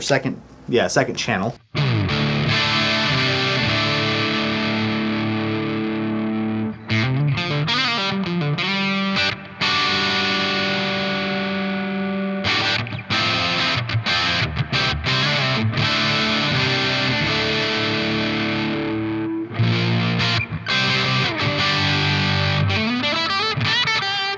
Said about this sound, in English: So just like a kind of edge of breakup tone kind of thing with a little bit of reverb.